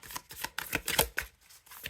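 A brand-new, slightly stiff deck of cards is shuffled at close range in a quiet room, with a series of quick papery riffles and snaps in an uneven rhythm.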